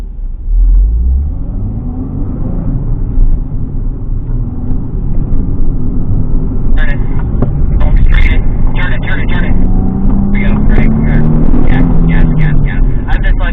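A car lapping a slalom course of gates, its engine rumbling steadily and rising as the throttle is applied, with a person talking over it throughout.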